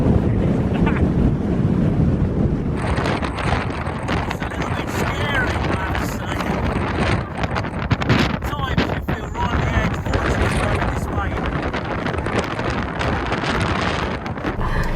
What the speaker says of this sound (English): Fortunately, the wind's always blowing inland, so you're always generally safe